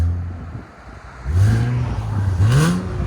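A catless 2017 Infiniti Q60 Red Sport 3.0L twin-turbo V6 with its exhaust valves closed revs up twice, a deep, fairly subdued drone rising and falling at close range with no talk.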